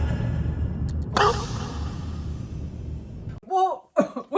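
A single sharp cough bursts out over a low background rumble, followed by a brief voiced sound near the end.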